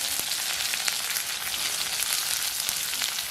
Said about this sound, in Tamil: இதுக்குள்ள வெங்காயத்தை போடுவோம்.